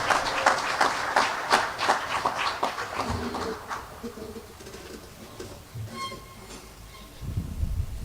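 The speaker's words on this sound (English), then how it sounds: "A big round of applause" Audience applause at a postal service launch event, a burst of clapping that is strongest at first and then thins and fades, with faint voices and background noise as it dies away.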